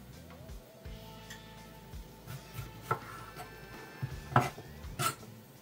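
A knife slices through food on a cutting board at home while Jamaican Sunday dinner is cooked, giving a few scattered taps and sharper clacks against the board over a light background hum.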